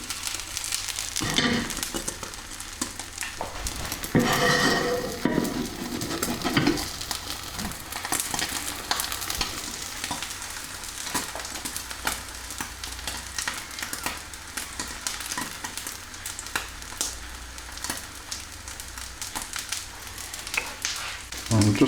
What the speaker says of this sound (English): We just want to fold in our omelette